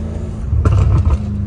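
A BMW M5 Competition engine fitted with aftermarket downpipes rumbles at idle, then briefly revs up with a deep, throaty burst before settling back to a steady low drone.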